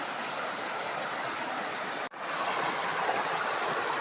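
Steady broadband rush of a small, deep stream flowing past rocks and holes along its bank, constant and fairly close, with a brief dropout midway and no voices.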